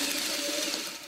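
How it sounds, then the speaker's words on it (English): A sewing machine stitches fabric in a continuous fast whirring run, close and steady with a faint mechanical buzz, no voices. "this is the way they're going to go into the sewing machine"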